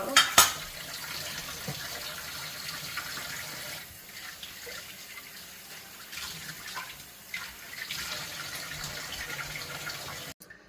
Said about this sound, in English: And then wash this thing out with warm soap and water also.